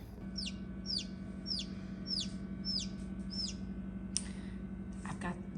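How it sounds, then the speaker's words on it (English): A newly hatched baby chick peeps about six times in a steady series of high, short, downward-sliding chirps, then a few quicker calls, all over a constant low humming background. "So it is chirping, so that's good."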